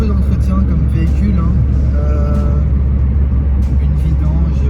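1989 Citroën AX with a PSA TU engine driving along, heard from inside as a steady low engine rumble and road noise, loud and continuous, while someone talks over it.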